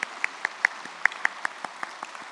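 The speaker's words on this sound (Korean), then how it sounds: "우리 다시 한번 우리 축복의 박수를 보내셨으면 좋겠습니다." Sparse, quiet clapping from a small church congregation giving a blessing applause, individual hand claps spaced irregularly across a couple of seconds without talk.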